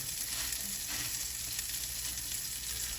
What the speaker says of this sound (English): Now I'm going to go ahead and flip the steak.